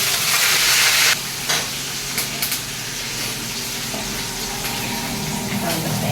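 Coconut, green chilli, garlic and curry leaves are sautéed in a pan, giving a bright hiss that is loudest for the first second, then settles into a softer, steady sizzle with light stirring clicks.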